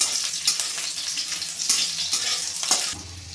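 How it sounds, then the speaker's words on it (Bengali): Chopped garlic and green chili sizzle and crackle in hot oil while a spoon stirs through them, a steady close frying hiss broken by a few sharper scrapes and pops. "রসুন আর কাঁচা লঙ্কাটা একটু ভেজে নেব"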